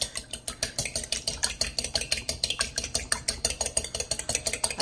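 Two cracked eggs whisked in a bowl, a fast regular beat of utensil strokes tapping against the bowl, close and steady throughout.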